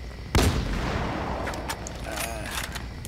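A single loud sniper rifle shot in the Battlefield video game, sharp and close, followed by a long rumbling echo that fades, with someone talking over it.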